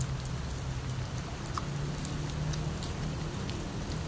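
Steady rain falls in the Philippines as a dense, constant patter on surfaces, moderately close with occasional louder drips and no voices.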